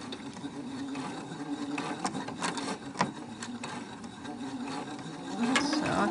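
Domestic sewing machine stitching elastic onto a decorative fabric face mask, a steady close mechanical whir with small clicks and a few pauses as the needle stops down, with no talking.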